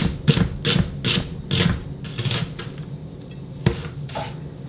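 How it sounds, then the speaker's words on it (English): A knife slices down vertically through an onion on a cutting board, giving a run of crisp, close cutting strokes in an uneven rhythm, several quick chops followed by a pause and two more cuts. "Traditionally, we would just do a long slice vertically on the onion"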